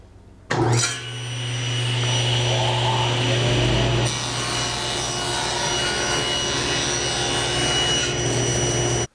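Table saw crosscutting a 17-inch panel guided by an Incra miter gauge, a steady loud motor whine with the blade rasping through wood throughout, alone without talk.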